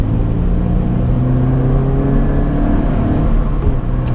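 Subaru BRZ accelerating hard in third gear, a loud, close engine rumble and rising whir that builds steadily for a few seconds, heard from inside the car with no talking.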